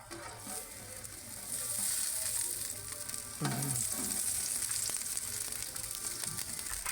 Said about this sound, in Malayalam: ആദ്യം നെയ്യ് ഒഴിക്കുന്നു.